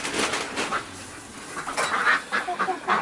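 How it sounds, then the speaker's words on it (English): Wild birds flying around a farm quack and honk like ducks or geese in a quick, fairly loud cluster of calls, fading briefly in the middle and then returning in closely spaced bursts. "We do have these wild birds that fly around too."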